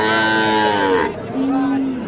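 Cattle at a village livestock market in Ambari, Dinajpur, where small bulls and heifer calves are traded, give two drawn-out moos: a long, loud call, a short pause, then a second steadier low moo, with faint market background.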